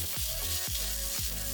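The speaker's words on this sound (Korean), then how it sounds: "쌈장을 2테이블스푼 넣고 볶아줍니다." Rice stir-fried with ssamjang on a pork belly griddle sizzles continuously, with a few rhythmic scraping strokes as it is stirred, close and steady with no talking.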